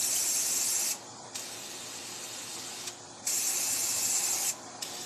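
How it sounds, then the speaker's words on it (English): A spray paint can hisses in long steady bursts, three sprays separated by brief pauses, close and fairly loud, while painting an Iron Man Marvel tumbler. "Cans do not spray good when they're tilted forward."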